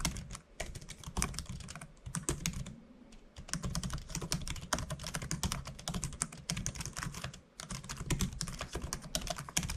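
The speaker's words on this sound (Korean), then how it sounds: "손톱과 키보드가 닿는 그 소리가 시끄러운 게 상당히 많아요" Rapid, continuous clattering of fingernails typing on a laptop keyboard, close and crisp, with two brief pauses in the stream of clicks.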